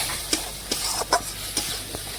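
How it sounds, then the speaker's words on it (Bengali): Spice masala being stirred and fried in a pan for papaya mutton curry, with a steady sizzle broken by several distinct scrapes of the spoon at irregular intervals, close by and with no talking. "এখন সমস্ত কিছু একসাথে মশলার সাথে ভালোভাবে মিশিয়ে আমি একটু কষিয়ে নেব"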